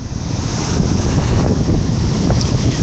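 Strong wind gusts roar steadily across a beach during a tropical cyclone, loud and continuous with surf and squall noise mixed in and buffeting on the microphone throughout.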